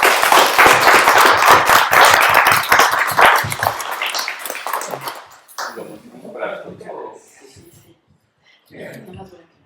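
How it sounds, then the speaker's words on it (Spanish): An audience at an academic ceremony and award presentation claps for the founders, dense applause for about four seconds that then fades out, followed by quieter scattered sounds. "Para ellos un aplauso sincero"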